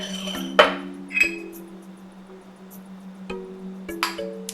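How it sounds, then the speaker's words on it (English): A spoon scoops sourdough starter into a cup, giving a few sharp clinks and taps of metal on the container, spaced irregularly against a low steady hum with no talk. "you can take a spoon and spoon it into the cup"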